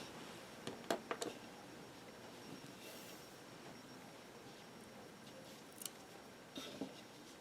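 Scissors snip through light green yarn during a crochet four-leaf clover project, giving a few quiet, sharp clicks near the start and again near the end, with a faint hiss of room noise in between and no speech.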